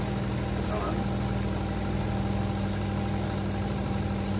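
A Renault Sandero RS engine runs steadily at about 1500 RPM, a constant low hum with even tones, close and moderately quiet.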